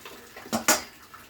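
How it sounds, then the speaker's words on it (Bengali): Cabbage with fish head is stirred in a cooking pot, giving two quick close scraping clanks of a utensil against the metal pot amid quiet background, with no talking. "এবার এটা একটু নাড়িয়ে দিতে হবে এইভাবে এইভাবে নাড়িয়ে নিতে হবে"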